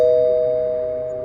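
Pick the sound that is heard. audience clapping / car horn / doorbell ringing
doorbell ringing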